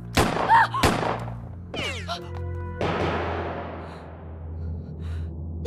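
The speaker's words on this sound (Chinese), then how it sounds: "你真开枪！" Gunfire in a Chinese wartime TV drama: a few sharp, loud bangs spaced about a second apart, each with a short ringing tail, over a sustained musical tone.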